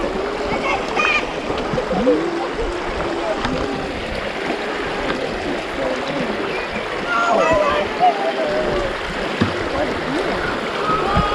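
Water of the Mississippi River at its source by Lake Itasca, a continuous close splashing and gurgling flow, with people talking over it.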